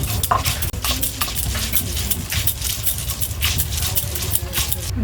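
Cumin, pepper, ginger and garlic ground together into a spice paste for chicken, with steady scraping and rubbing strokes repeating throughout, close and moderately loud over a low background hum.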